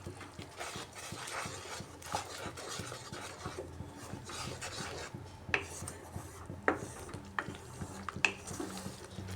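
Potato curry (alur dum) being stirred and sautéed in a pan, with a steady scraping and rubbing of a utensil against the metal, punctuated by sharper clinks toward the end, up close and without speech.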